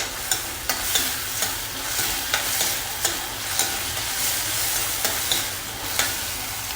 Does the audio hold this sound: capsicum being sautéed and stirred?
yes